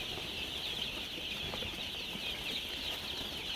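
Black Australorp chicks on a poultry farm make a steady, continuous high chirping chorus, with faint rustling and the odd soft flutter underneath and no speech.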